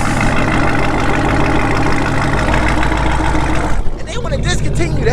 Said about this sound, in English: this is what you could be owning if you chose to buy, if you got a Camaro with an LT4 in it